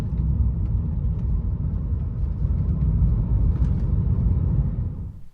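A BMW E46 car drives dead straight down a street, heard from inside as a steady, loud, low road rumble and engine drone that holds evenly throughout with no voices.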